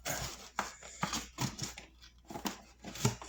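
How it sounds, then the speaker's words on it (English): Repeated sharp snipping and crunching as ordinary scissors cut through a stiff plastic bottle, several close cuts in an irregular rhythm, no talking. "And just regular scissors will cut through it."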